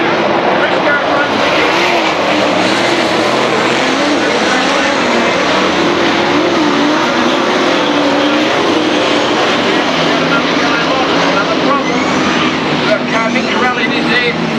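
Loud, sustained roar of sprint car engines droning around Western Auto Raceway, Bacchus Marsh, in 1999, with a crowd-like wash underneath and no clear pauses.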